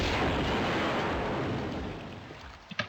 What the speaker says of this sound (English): We're gonna blow this entire building up using the detonator over there.